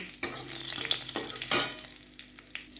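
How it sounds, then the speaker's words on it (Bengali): Green chilies are added with black cumin seeds to hot oil in a kadai, crackling and sizzling in sharp bursts with occasional stirring clatter, close and fairly quiet. "আর কাঁচা লঙ্কা ফোড়ন দিচ্ছি।"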